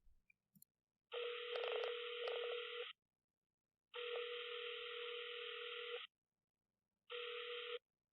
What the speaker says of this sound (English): I'm going to call him up here, dialing him in, and we're going to talk to him